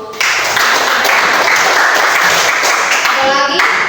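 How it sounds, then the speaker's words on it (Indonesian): Classroom audience applauding a student's answer in a science lesson, a steady, dense burst of many hands clapping that starts abruptly and holds loud throughout, with a few children's voices mixed in near the end. "Kita tepuk tangan untuk."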